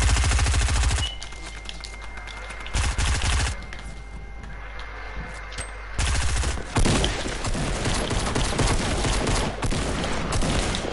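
Heavy gunfire in a shooter video game: loud bursts of rapid automatic shots separated by short pauses, continuing almost without a break.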